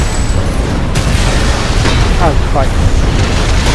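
Explosions and booming blasts in the mech combat game Armored Core 6, a steady dense rumble of battle noise with a few sharper bursts, heard under a voice speaking.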